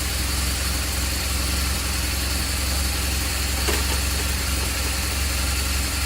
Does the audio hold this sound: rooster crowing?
no